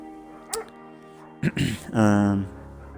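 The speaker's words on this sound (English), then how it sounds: "gentle-eyed German shepherd" A German shepherd in the video game Firewatch gives a short yip, then a couple of quick barks, then a longer whining, drawn-out bark, fairly close and clear over a quiet background.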